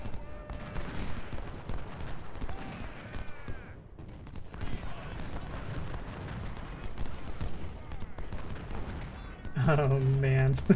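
Rolling musket and cannon fire from a Civil War battle in Ultimate General: Civil War, dense crackling volleys and distant booms throughout, with someone talking over it and a tonal game cue near the end.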